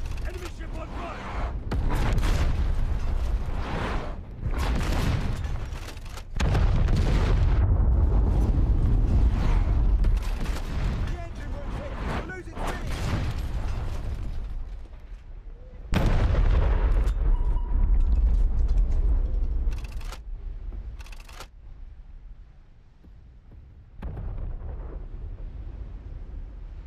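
A naval battle in War Thunder Mobile brings repeated heavy booming ship cannon blasts and shell impacts. Loud, close explosions come in clusters, mixed with creaking mechanical rumble between them.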